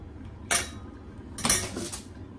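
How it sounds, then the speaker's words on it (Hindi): Chicken drops into a pan for frying, heard as two sharp clattering bursts of metal and utensil contact about a second apart, close by, with a low hum between them. "अब मैं पहले चिकन को फ्राई करूंगी। ये चिकन इसमें डाल देंगे"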